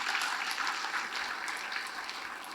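An audience at a regional leaders' training meeting in Hong Kong claps for Jackie, a dense, sustained round of applause from a large crowd holding steady and easing slightly toward the end.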